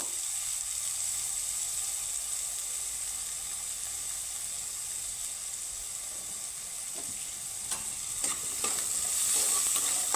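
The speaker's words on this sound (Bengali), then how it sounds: "ওই বেগুনটাকেও আমি সুন্দর করে ভেজে নেব" Eggplant sizzles and crackles in hot oil in a pan, a steady frying hiss that grows a little louder toward the end.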